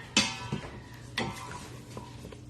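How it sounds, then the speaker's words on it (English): A utensil stirs sauce in a bowl while making a honey sriracha salmon bowl: a few quiet, separate clinks and scrapes spaced about a second apart against a soft background, with no talking. "we'll give it a little stir"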